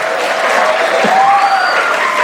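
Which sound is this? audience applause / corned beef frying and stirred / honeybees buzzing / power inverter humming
audience applause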